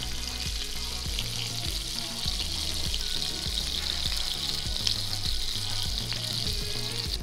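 Loud, steady sizzling and crackling of spicy Georgian meatballs frying in a hot clay pot, close up and continuous throughout, with no voices.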